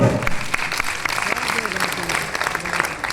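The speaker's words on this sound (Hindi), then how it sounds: "आपकी तालियां राहील भाई।" Theatre audience applauding a performer at a drama event, continuous clapping with sharp individual claps standing out, while a voice carries faintly underneath.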